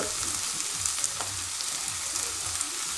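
Garlic sizzles and fries in a pan with mushrooms for a mushroom risotto, a steady close crackle with occasional stirring, no talking.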